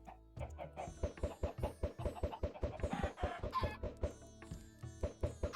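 A pen full of Minecraft chickens clucks in a busy, overlapping stream of short, rhythmic, loud calls that repeats steadily without pause, with no voices over it.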